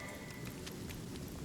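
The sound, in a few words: rain in Divinity Original Sin video game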